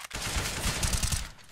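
A CS:GO rifle spray fires as a quick rapid burst of about a dozen close shots over roughly a second, fading out at the end, with no voices over it.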